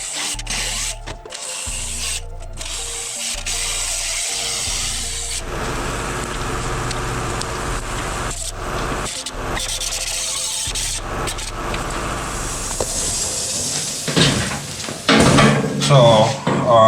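Metal cutting on the inside of a 1949 Jeep Willys pickup passenger-side bed fender to remove an old weld, a steady harsh grinding rasp running continuously and loud, with brief changes in pitch as the cut progresses.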